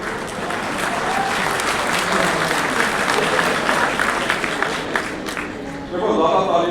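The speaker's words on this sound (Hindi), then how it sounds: "देखो, ज्यादा ताली मत बजाओ।" An audience at a Vestige company announcement event claps in sustained, dense applause that swells again near the end, with some voices mixed in.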